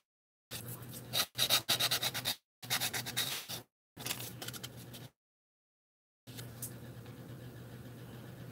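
Hand sanding with 220-grit sandpaper on a scale-model car widebody body gives brisk, close back-and-forth rasping strokes in four separate bursts, with silent gaps between them and a softer rubbing passage at the end.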